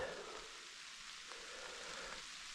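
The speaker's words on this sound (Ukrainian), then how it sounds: "І знову мене дощ застає в лісі." A steady hiss of rain falling on leaves and ground in a Carpathian forest, even and unbroken, with no voices.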